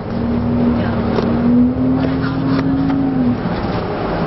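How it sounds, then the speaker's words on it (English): Evening rush-hour traffic on Northwest 23rd Avenue: cars pass close by with a steady engine drone and swells of tire noise that fade toward the end. "Look at this traffic over here."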